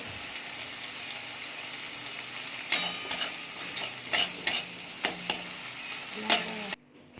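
Spices and salt sautéing in a pan for khichuri, a low steady sizzle broken by repeated scraping stirs of a spoon, close and moderate in level, cutting off abruptly at the end with no talking.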